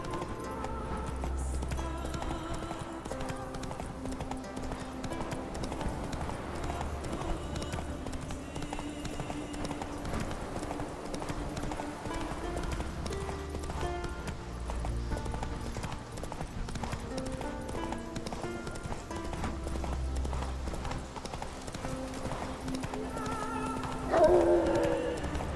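Hooves of the horse Roach trot steadily in The Witcher 3, a rhythmic clip-clop running under continuous game music, with a brief louder accent near the end.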